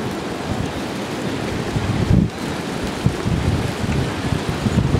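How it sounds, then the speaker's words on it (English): Steady, loud wind gusting across the microphone at Huntington Beach, with a broadband roar like surf underneath and a brief dip partway through; no one speaks. "It's a nice day today, but it was just a little windy."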